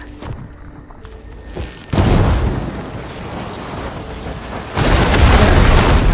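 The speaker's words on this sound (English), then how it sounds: "Hitting those blaze barrels with fire ammo should do the trick." Blaze barrels in Horizon Forbidden West go up in two loud, booming explosions when hit with fire ammo, each starting suddenly near 2 and 4.8 seconds and rolling on as a broad, sustained roar.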